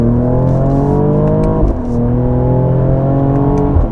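A 2022 Mercedes AMG GLE 53 SUV out on the road, its engine droning steadily from inside the cabin and rising in pitch, with a brief shift-like dip midway, alone and fairly loud.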